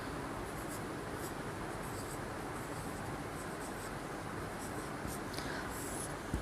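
A pen scratches out an answer by hand on paper in short, quick strokes, faint and close against a steady background hiss, with no voices.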